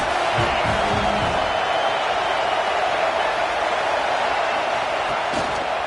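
Stadium crowd roar in a college football video game against Notre Dame, a steady, loud wash of cheering that fills the whole stretch without breaks, with a few low thumps near the start.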